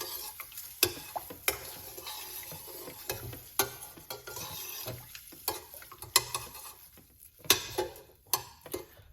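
Two tablespoons of dry leaves stirred into a drink, making close, irregular scraping and clicking strokes with sharp ticks over a soft rustle and no talking.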